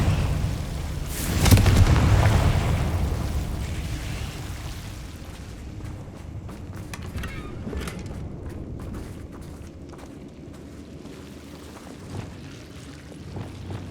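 A Confringo fire spell bursts with a loud explosive boom in Hogwarts Legacy, followed by a rumbling, crackling tail that fades slowly into the game's ambient noise.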